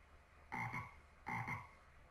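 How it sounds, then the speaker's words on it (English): A frog croaks twice at night in the RPG Maker horror game She, each croak a short raspy double pulse, alone against a quiet background. "Who wakes up from the croaking of a frog?"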